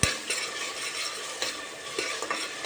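A zucchini dish being stirred and sautéed in a hot pan on a home stove, with a steady sizzle and scraping strokes of the utensil against the pan. No voices are heard.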